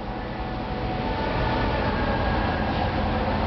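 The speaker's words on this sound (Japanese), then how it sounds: "ちょうど電車出ますよ。" An electric train rumbling steadily as it pulls out, a continuous loud low roar that holds even throughout with no voices over it.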